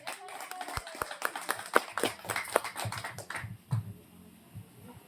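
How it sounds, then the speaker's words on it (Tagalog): Light scattered clapping from an audience at a community learning center moving-up ceremony, sparse and uneven across the room with some people talking underneath. "Let's give her a round of applause."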